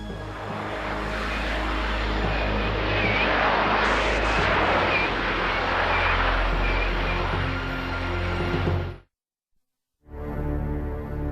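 A Harrier jet, the US Marines' warplane, roars loudly and steadily for about nine seconds, then cuts to a brief silence before the heavy jet noise resumes.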